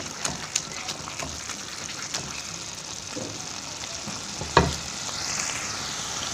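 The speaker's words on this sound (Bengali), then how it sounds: "মোচার ঘন্টটা একটু মাখা মাখা হওয়ার জন্য আমি ডাল কাঁটা দিয়ে একটু ঘেঁটে নেব" Banana flower curry with potatoes is mashed and stirred in a hot pan with a wooden lentil masher, giving a steady close sizzle with soft scraping and an occasional sharp clack of the masher against the pan.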